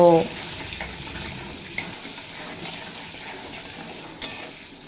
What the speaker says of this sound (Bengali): স্বাদ মতো লবণ আর পরিমাণ মতো হলুদের গুঁড়ো দিয়ে আলু খুব ভালোভাবে ভেজে নেব